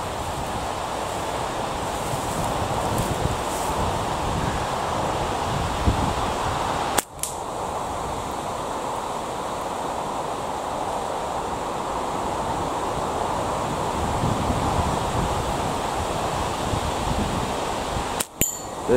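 Strong wind buffets and roars steadily throughout, with two sharp sudden thuds cutting through the gusts.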